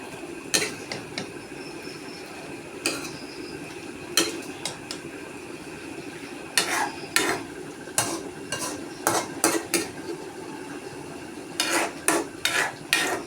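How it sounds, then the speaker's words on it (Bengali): Fish curry with potato and chopped coriander stirred in a pan, a soft background simmer broken by sharp scraping and clattering spoon strokes, sparse at first and then coming in quick bursts, nearby with no voices. "এবার ভালো করে নেড়ে নেব।"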